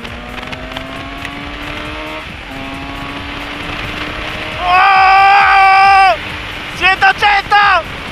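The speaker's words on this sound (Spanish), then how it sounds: "¡180! ¡Frena! ¿Cómo frena esta Suzuki?" A Suzuki GSX 750 motorcycle on a track: a steady rising engine drone, then a loud high-revving howl that cuts off as it brakes, followed by several short sharp revs; no talking over it.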